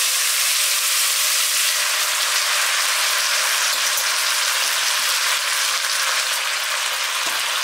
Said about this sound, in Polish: Czyli to wrzenie powoli zaczyna się ściszać.